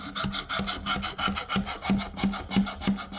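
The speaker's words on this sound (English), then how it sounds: "we're going to start out with 220. And just going to go along the edge here, see how sharp we can get a hatchet" Hatchet edge drawn along 220-grit abrasive on a Work Sharp sharpener, giving a steady rasping scrape in repeated strokes of roughly a third of a second, close and fairly loud with no voices.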